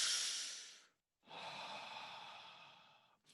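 A man imitates slow, deliberate conscious breathing: one long audible breath, a brief pause, then a second extended breath, close to the microphone with no talk.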